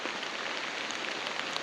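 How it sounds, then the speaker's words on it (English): Heavy rain falls at midnight during a tropical storm at a campsite with a tent, drumming steadily on surfaces in a dense, continuous hiss with scattered sharper drops and no voices. "It's midnight, it's raining, wind's picking up."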